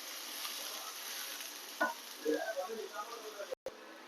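Vegetables sauté in a pan with puréed tomato, a faint, steady sizzle heard at low level while a voice speaks briefly over it partway through.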